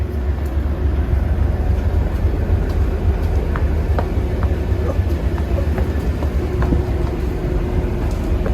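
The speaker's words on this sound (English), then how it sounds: "But there's a train up there just now. It's a very old one" An old train stands near a railway station on the line toward Glasgow around Tyndrum and Crianlarich. It gives a continuous low rumble with faint clanks and squeals heard from nearby outdoors.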